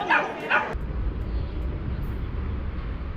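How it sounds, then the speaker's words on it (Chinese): Tiny puppies yip and bark a couple of times up close at a rural market, then fall quiet as a low rumble of background traffic carries on. "小狗都好小啊"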